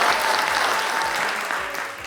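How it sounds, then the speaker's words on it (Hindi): A studio audience on a talk show bursts into brief, dense applause, a loud burst of clapping that fades slightly toward the end. "वेरी गुड, तालियां।"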